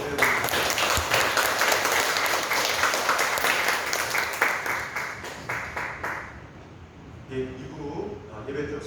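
A church congregation bursts into sustained applause during a Sunday service, dense clapping filling the room for several seconds before tapering off as a voice continues over the fading claps.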